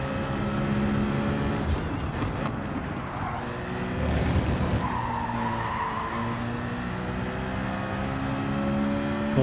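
A car cornering hard in Gran Turismo 7, with loud sustained tire skidding and squeal over a droning engine whose pitch shifts as gears change, constant and close throughout.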